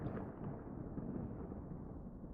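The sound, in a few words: thunder cracking in the distance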